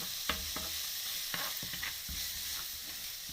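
Grated onion frying in hot oil in a pan, a soft continuous sizzle broken by a few sharp scraping stirs, close but fairly quiet, no voices.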